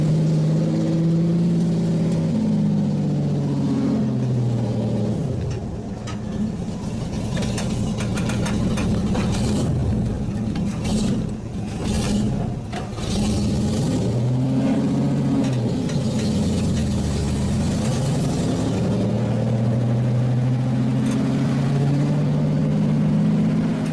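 The engine of a 1957 Byers SR-100 fiberglass sports car heard from the cabin while driving, a steady mid-pitched drone that rises and falls with throttle and gear changes, continuous and moderately loud, with no talking.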